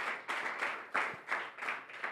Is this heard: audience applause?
yes